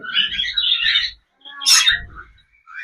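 Cockatiels kept with a clay breeding pot give bright, high chirps and tweets in two bursts, the second shorter and harsher like a squawk, clear and close with brief quiet between.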